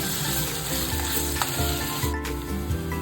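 Kashmiri aloo dum potatoes being stirred in a hot pan so they don't stick, a loud continuous sizzle with scraping strokes of a spoon against the pan, close and without speech.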